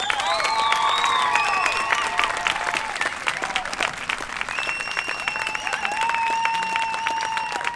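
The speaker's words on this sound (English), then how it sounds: "let me just hear what you've got in terms of a good round of applause for these musicians on stage" An outdoor audience in Victoria Embankment Gardens claps steadily for the musicians on stage. Whistles and cheers ring out over the dense, continuous applause throughout.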